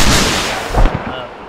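Gunfire in the military shooter game Squad, with several loud booming shots and rumbling reports in quick succession, close and heavy, fading toward the end.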